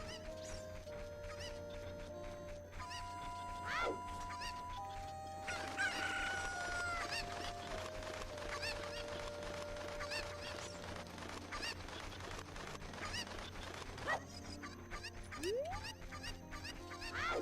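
Cartoonish chickens cluck and squawk continuously in the video game Zelda: Ocarina of Time, played on GameCube, with flurries of bird calls over a bright layered game soundtrack of sustained tones.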